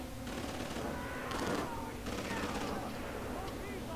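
Gunfire in the horror video game Outlast: Whistleblower, a few rapid bursts of shots at moderate distance over a dark ambient background.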